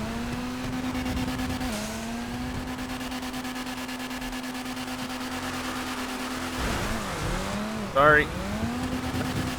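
A drift-spec car in FiveM, the GTA V game, holds a steady engine drone while sliding, with a dip near the end and a brief tire squeal, all under a voice talking throughout.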